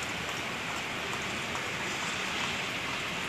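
Heavy morning rain in Dhahran, Saudi Arabia falls in a steady, dense hiss, with water dripping and leaking into a flooding office, continuous and fairly close with no voices.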